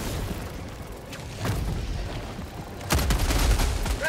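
Gunfire aimed at Terminids in the video game Helldivers 2 crackles in dense bursts with booming impacts, swelling louder at about the middle and again near the end.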